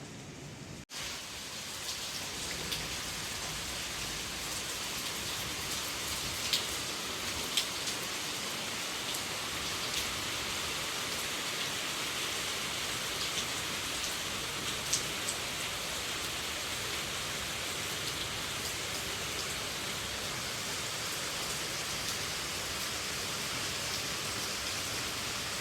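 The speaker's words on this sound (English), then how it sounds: "So I was grateful for the rain" Rain falls steadily at a villa in Bali, a soft, even hiss of drops that holds without letup for the whole stretch, with a few faint ticks of individual drops and no voices.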